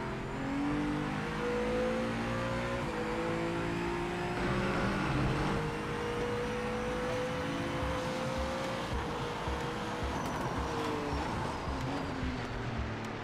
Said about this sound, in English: Uncatchable supercar slide.